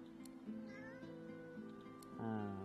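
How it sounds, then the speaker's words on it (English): Cat yowling in the video game Divinity Original Sin 2, a few drawn-out, wavering meows over a steady tonal game music bed, the last call louder and closer. "The cat lifts his head and yowls, then focuses on his mutated meal."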